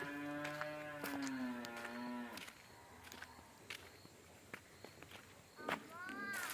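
A buffalo being led home from the field lows close by in a long, drawn-out call, then again near the end, with scattered hoof steps and footfalls in between.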